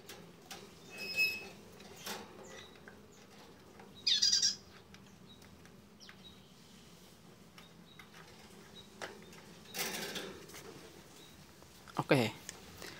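A caged songbird, just unboxed and put into its cage, gives a few short chirps and calls spread across the stretch, with scattered handling knocks and rustles in between.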